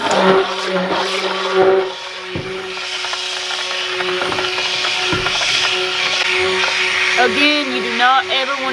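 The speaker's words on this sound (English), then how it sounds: "This has to be only a soap mixer." Electric hand mixer blending oil and lye for homemade soap in Appalachia, whirring steadily with a motor hum and shifting pitch, close and loud, with occasional clatter against the container.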